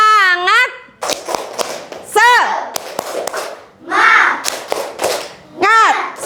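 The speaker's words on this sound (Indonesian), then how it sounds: "Kita tepuk semangat dulu ya" Children chant a rhythmic spirit cheer, their voices mixing with quick bursts of sharp hand claps and stamping in a patterned beat, all close and lively.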